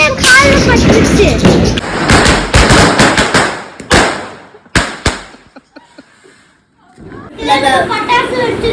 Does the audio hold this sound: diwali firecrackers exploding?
yes